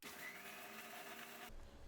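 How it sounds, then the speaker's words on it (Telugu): A kitchen mixer grinder whirs steadily while grinding bitter gourd mixture, a loud continuous motor hum that cuts off abruptly near the end. "ముందు ఇది మిక్సీ పట్టుకుందాం"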